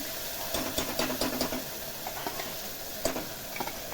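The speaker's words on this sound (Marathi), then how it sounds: "आता छान दोन ते तीन मिनटं छान भाजून घेऊया हा मसाला" Ground black masala paste roasts in hot oil in a pan for a green pavta bean curry, giving a steady close sizzle with soft scraping stir strokes and no talking.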